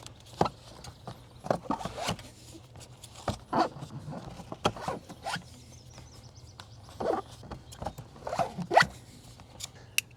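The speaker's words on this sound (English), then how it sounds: "I'm just using a piece of tape here to terminate my roll" Adhesive tape torn and pulled from a roll while wrapping a Mr Cool air conditioner line set during a DIY install, heard as repeated short sharp ripping bursts, close and fairly loud, with no talking.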